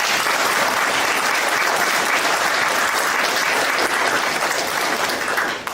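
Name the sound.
applause from audience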